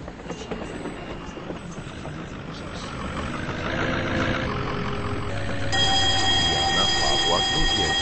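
Regional train pulling into a station in the Roblox video game, a rumbling rolling noise that grows louder, then a steady high tone joins near the end.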